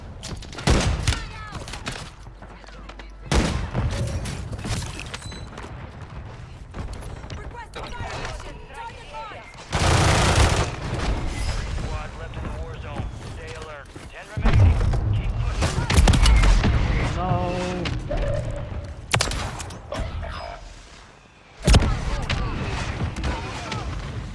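Bursts of gunfire and explosions from a Call of Duty Modern Warfare III match using a Striker 9 come in loud clusters, overlapped by excited speech from players.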